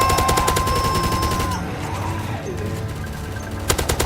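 Rapid gunfire from a zombie shooting video game, dense repeated shots in steady bursts under game sound effects and a falling whistle-like tone, pausing briefly before another cluster of shots at the end.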